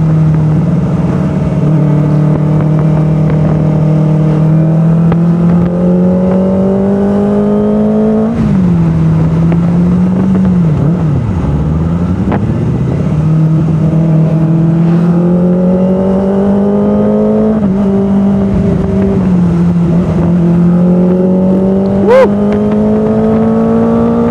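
A Kawasaki Ninja ZX-25R motorcycle's four-cylinder engine climbs through high RPM while riding, loud and close, with rising pitch sweeps, a dip and recovery on a gear change, and wind rush throughout.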